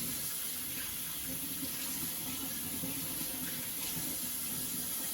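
A tap runs steadily with lukewarm water for hand washing, a continuous close splashing hiss into a sink with no pauses and no talking.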